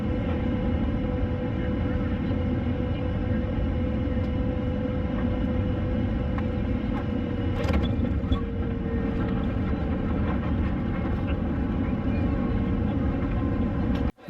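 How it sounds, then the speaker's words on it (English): A passenger plane flying in to land at Sunshine Coast Airport makes a steady, loud low engine drone heard from inside the cabin, continuous and unchanging, ending abruptly. "It wasn't too long before we were flying in to the Sunshine Coast Airport."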